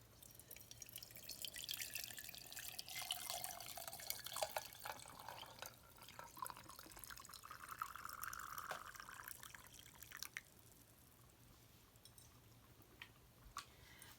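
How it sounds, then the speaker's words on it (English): Hot water from a kettle poured into a cup of herbal tea, a steady close liquid stream with gurgling that rises for about ten seconds, then stops, leaving faint drips and quiet. "And we are gonna add our hot water."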